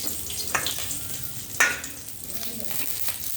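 Bay leaf, dried chilli and asafoetida sizzle in hot oil in a pan for a Bengali curry, a steady close crackling hiss with a few sharper spits and stirring scrapes.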